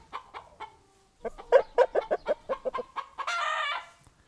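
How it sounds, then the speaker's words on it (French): Hens cluck in a quick run of sharp, close calls that build into a louder, drawn-out squawk near the end, with brief quiet gaps between bursts. "J'ai entendu qu'il y avait des poules."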